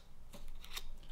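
Soft dry scraping and rustling of paper as a paper flower petal is drawn quickly along a scissor blade to curl it, quiet and close, lasting about a second.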